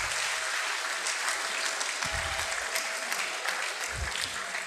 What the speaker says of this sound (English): Please clap for them for me.